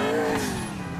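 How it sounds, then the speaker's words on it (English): A car engine in Grand Theft Auto IV drones steadily for a moment, its even hum gliding slightly downward in pitch with no talk over it. "I like the sound of this car"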